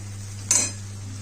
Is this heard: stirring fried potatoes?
yes